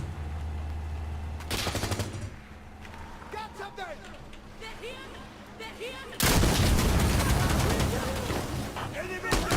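Artillery shells and gunfire in the Insurgency: Sandstorm video game, with scattered shots and impacts that build to a loud, sustained barrage of blasts and rumble in the second half.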